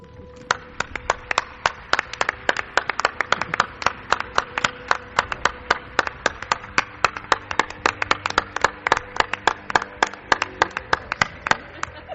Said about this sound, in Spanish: quiero un aplauso, Clara Tauces